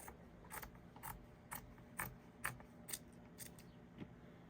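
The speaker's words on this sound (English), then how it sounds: "I can trim the remaining fabric" Scissors snipping away excess fabric around an embroidery piece stapled onto a frame, a run of about ten crisp, evenly spaced cuts, close and fairly quiet, with no talking.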